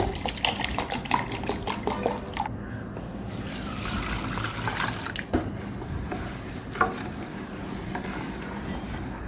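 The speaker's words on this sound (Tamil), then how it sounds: "அரை லிட்டர் தண்ணி ஊற்றிருக்கிறேன்" Half a litre of water splashes and gurgles steadily into a container while dishwashing liquid is being made, a close, continuous pouring sound with a few clinks and bumps.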